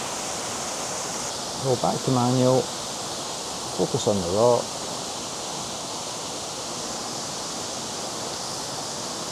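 A waterfall pours into a pool as a constant broadband rush that fills the scene from start to end, with someone speaking briefly twice over the steady roar.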